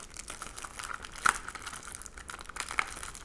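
Plastic packaging of false eyelashes crinkles and crackles close up, in irregular bursts with a couple of sharper snaps as it is handled and pulled open.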